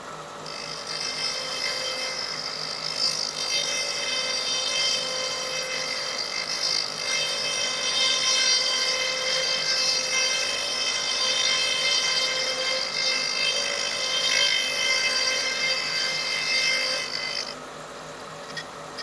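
A light finishing pass on a wooden flask turning on a lathe, a steady whirring hiss of the tool on hard wood that runs continuously and fairly loud for most of the stretch before easing off near the end.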